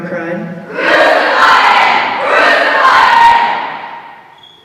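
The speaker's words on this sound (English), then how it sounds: "The crowd cried." A crowd at a Way of the Cross passion play cries out together, two swelling waves of loud massed shouting that rise and fade, preceded by a lone voice.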